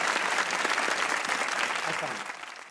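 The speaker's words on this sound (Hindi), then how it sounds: "ताली होनी चाहिए" Studio audience at a Pakistani comedy talk show applauds as a guest is welcomed onto the stage, steady dense clapping held for a few seconds, close and fairly loud, easing slightly at the end.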